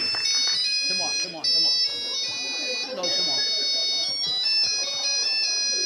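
A bright electronic ringtone melody repeats steadily throughout, with someone talking over it.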